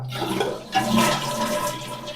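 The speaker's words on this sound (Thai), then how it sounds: "เดี๋ยวผมจะลองกดชักโครกนะครับ" A toilet fitted with an AGATE automatic bowl deodorizer flushes close by, starting with a sudden rush of water that swells into a steady gurgling drain. No one speaks.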